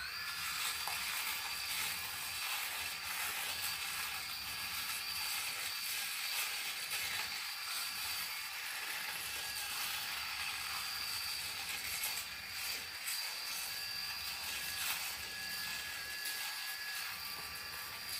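An Oraimo Smart Shaver 2 electric shaver running across a face, giving a steady buzzing whir with faint rasping texture, close and even throughout, with no talking.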